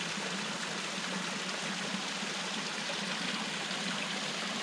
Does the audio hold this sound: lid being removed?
no